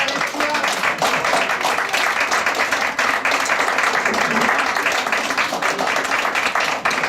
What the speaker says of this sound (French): Je voudrais qu'on applaudisse aussi quelqu'un